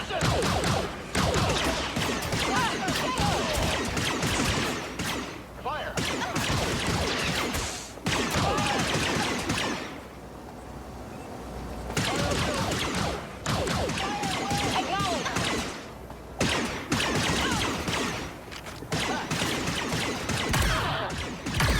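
NPC blaster gunfire from the Star Wars Outlaws video game, with repeated loud shots in dense bursts broken by short pauses, mixed with game voices calling out.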